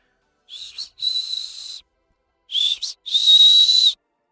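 Two bursts of high, clear human whistling, each a short chirp then a longer sustained tone, separated by a brief pause; no talking.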